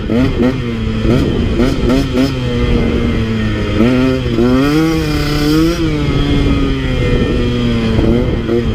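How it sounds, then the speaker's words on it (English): A KTM 150 XC W two-stroke dirt bike engine revs up and down repeatedly, its pitch rising and falling in loud, close bursts throughout. "you gotta rev it out just like any small bore bike"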